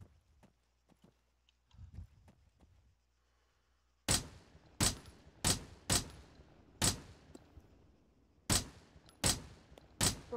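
Suppressive gunfire in Arma 3 Altis Life, heard as about ten sharp, loud single shots spaced unevenly over the last six seconds after a quiet stretch with faint low rumble and a few soft taps.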